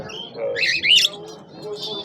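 Parrots and lovebirds in cages at a bird market, chirping in several high, close, bright bursts of tweets and squawks.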